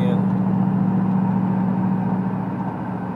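Car engine accelerating, a steady close mid-pitched drone that fades slightly toward the end.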